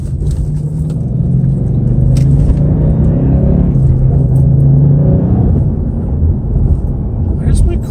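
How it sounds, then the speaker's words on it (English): A Ford Mustang rumbling loudly while driving home, its engine a heavy, steady low drone with road noise that stays close and constant throughout, no words spoken. "Why does my car sound so loud?"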